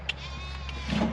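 Sheep bleating inside a handling rollover, a short close cry over steady mechanical background noise with no talk.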